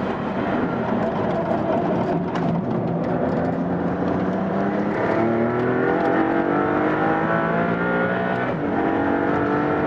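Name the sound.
Maserati MC20 accelerating on the Modena circuit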